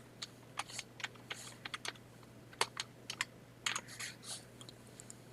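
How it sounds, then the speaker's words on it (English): Quiet keyboard typing, irregular bursts of key clicks close by, with short pauses between groups of keystrokes. "I'm going to start typing"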